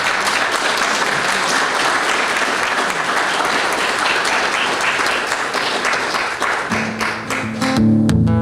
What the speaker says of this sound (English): How about another round of applause for Nora Pollard?